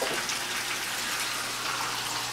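A small bowl of water poured into a pan of simmering Chinese-style pork chop sauce, a steady close hiss and splash without pause and no talking.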